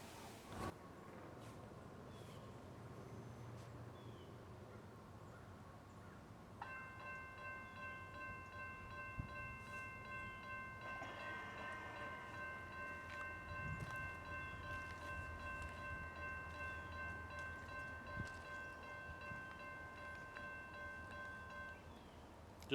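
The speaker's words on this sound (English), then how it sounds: "So let's check that train out now." Southbound CSX freight train M653 passing outdoors, a steady low rumble and rolling rail noise with a sustained multi-tone horn blast sounding from midway, moderately distant and fairly quiet.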